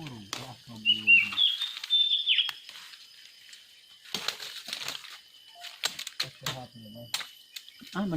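Birds chirp during a fishing outing, high thin calls drifting over the scene in short bursts while people talk nearby, with gaps of quiet between.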